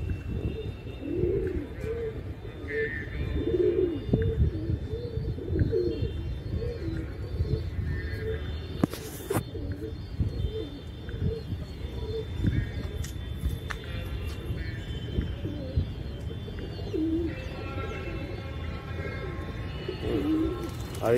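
Pigeons coo in soft, repeated low calls close by, continuing throughout while someone talks over them.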